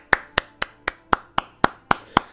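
Nine sharp hand claps at a steady, moderately quick pace, close and clear with no talking, from the video game Star Wars: Knights of the Old Republic.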